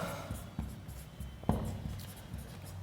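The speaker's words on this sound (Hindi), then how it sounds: "तो अब लिखते हैं" Chalk or pen scratches out short strokes on a board or paper, with quiet, irregular taps and scrapes close by in an otherwise calm room.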